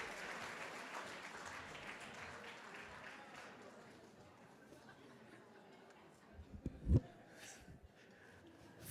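Faint applause from a luncheon audience at a National Philanthropy Day event, honoring award recipients; the clapping fades under murmured chatter, with a brief louder thump near the end.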